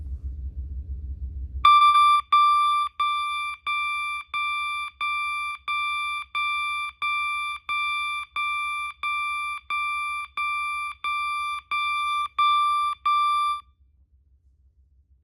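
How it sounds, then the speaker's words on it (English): A System Sensor MA/SS-24D alarm sounds its 1200 Hz interrupted tone: a loud, steady train of about fifteen evenly spaced beeps after a brief low rumble, stopping abruptly near the end. "the next tone is 1200 hertz interrupted"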